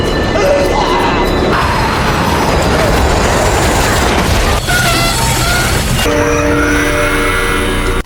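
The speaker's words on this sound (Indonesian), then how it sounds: "sebelum sebuah kereta datang yang akan menghabisinya" A train roars in close and loud, its rumble building as a blaring horn sounds twice, long held tones over the rushing wagons.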